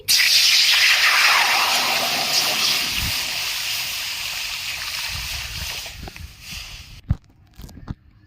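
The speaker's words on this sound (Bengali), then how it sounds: "কড়াইতে আমি জল দিয়ে দিচ্ছি" A loud hissing rush of water poured into a hot wok, fading over several seconds, then a few soft clinks and thuds.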